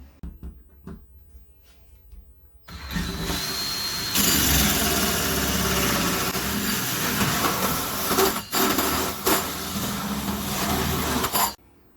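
After a quiet start, a power drill with a hole saw grinds loudly and continuously through metal with a harsh whine, briefly pausing twice before stopping near the end.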